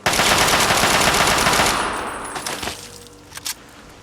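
Loud, rapid automatic gunfire rattles in a fast burst in Fallout 3 on PC. It fades into a ringing tail, followed by a couple of sharp metallic clangs.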